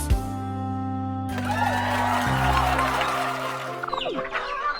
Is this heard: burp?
no